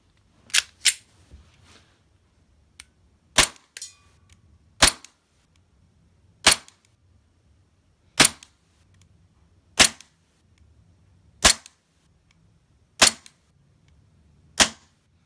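A Stark Arms Glock 42 VFC green gas airsoft pistol fires about ten sharp, loud single shots at uneven intervals of one to two seconds, each a crisp pop with a short tail, with faint handling noise between.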